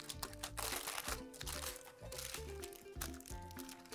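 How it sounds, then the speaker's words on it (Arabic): Aluminum foil crinkles and crunches while being shaped around a cheese dessert, halawet el jibn, in a kitchen. The rustling is close and continuous, with sharper crackles every second or so. "انا بمساعده الورق الفضي عم بحاول اعمل هيك وانزلها"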